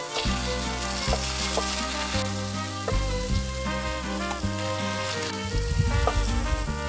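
A ripe banana caramelizes on a grill with a soft, continuous sizzle, heard close but partly masked by steady background music.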